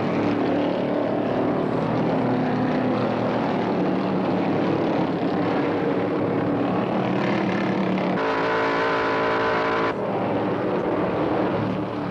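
Stock cars roar around the track at the 1971 NASCAR Miller High Life 500 at Ontario after a restart, a continuous loud engine drone with shifting pitch as the pack passes.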